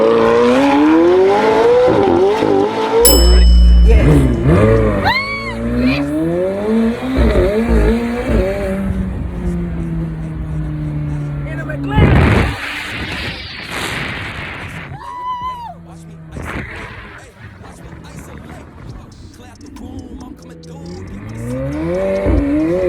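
A McLaren 765LT Spider sports car fitted with IPE downpipes, driving around the block: a loud, close engine revving and accelerating through rising and falling gear pulls, with brief tire squeal and crackles, and people talking over it.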